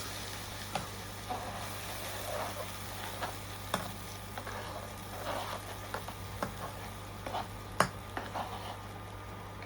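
Onion paste and whole garam masala spices fry in a pan for masala kaleji, giving a soft steady sizzle broken by scattered clicks and scrapes of stirring, with a low constant hum underneath and no talking.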